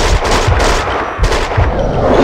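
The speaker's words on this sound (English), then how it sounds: "Someone must have heard the gunfire." Loud gunfire in the video game Max Payne 2, several close, punchy shots in quick bursts with booming low end and no talk.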